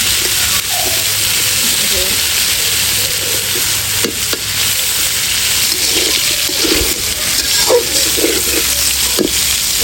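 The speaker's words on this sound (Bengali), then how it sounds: "কুকারের মধ্যে ভাত ভেজে নিতে হবে" Rice seasoned with salt and turmeric fries in a pressure cooker, giving a steady, loud hiss that runs unbroken for about ten seconds, with faint knocks and background voices underneath.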